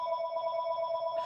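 A telephone rings in a single sustained electronic trill, clear and steady with bright tonal harmonics, fairly close and heard alone without talk.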